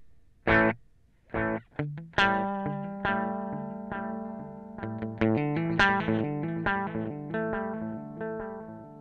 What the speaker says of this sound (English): So that first one is the analog delay. You can hear that it's degrading a little bit.